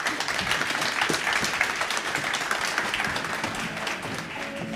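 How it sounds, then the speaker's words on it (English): A conference audience gives a round of applause for speakers leaving the stage, continuous moderately distant clapping from a large room that holds steady and then begins to thin. "Let's give them a round of applause."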